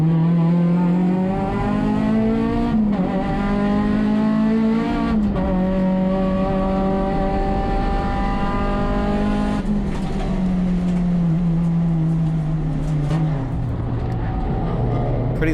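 A touring race car at Sonoma Raceway sustains a loud, close in-car engine drone whose pitch climbs and drops through shifts near 3, 5, 10 and 13 seconds, including a mid-corner downshift, with faint tire noise.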